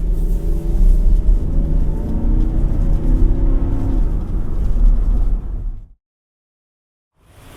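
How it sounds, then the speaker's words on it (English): Deep V8 rumble from a 2024 Nissan Patrol LE with the 5.6-litre engine while driving, a loud, steady low drone from the cabin that cuts off abruptly near the end, then a brief return of sound. "you get that low-key V8 rumble"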